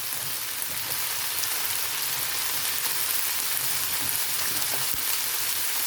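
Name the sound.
batbout dough frying in oil, sizzling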